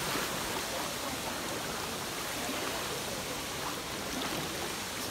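A river in Costa Rica flows in a continuous, even broadband rush, close and constant with no breaks, near a waterfall and bathing spot.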